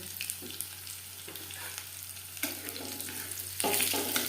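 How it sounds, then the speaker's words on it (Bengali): Garlic frying in hot oil in a pan over a gas flame, a steady soft sizzle with stirring scrapes, swelling louder near the end as more goes into the pan; no talking. "রসুন খুব বেশি ভাজবার প্রয়োজন নেই রসুন থেকে একটা স্মেল বেরোতে শুরু করে দিলে গ্যাসের ফ্লেমটা বন্ধ করে দেব"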